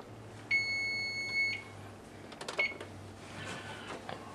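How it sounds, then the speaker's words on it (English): A kitchen oven timer beeps in a steady high-pitched tone for about a second, followed by quieter kitchen clatter and faint background noise. "that was my timer"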